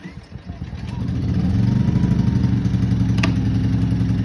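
A Hyundai HY2000SI inverter generator engine catches after a couple of sputters on a pull-cord start and settles into a steady, close idling hum, with a brief click near the end.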